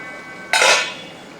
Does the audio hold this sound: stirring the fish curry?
yes